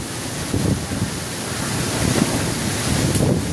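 Strong wind roars steadily across the microphone in a windstorm that has broken off a talisay tree, with gusts swelling and buffeting throughout.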